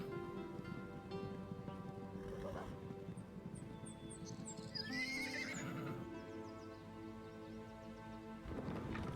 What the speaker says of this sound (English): I'm gonna play with my horsey now.